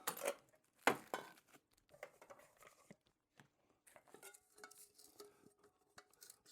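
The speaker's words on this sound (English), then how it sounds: "Another camping essential is always to have a mess kit with you." Metal pots and a small frying pan from a camping mess kit clank and clatter as they are handled, with a sharp bright knock near the start followed by scattered lighter clinks and scrapes, close and fairly quiet.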